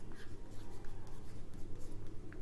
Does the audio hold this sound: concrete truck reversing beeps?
no